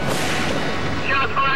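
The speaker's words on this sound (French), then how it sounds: "On a tiré des coups de feu." A sustained burst of loud, rapid gunfire during a hostage incident beside an aircraft, harsh and close, with a brief lull near the end before another shot.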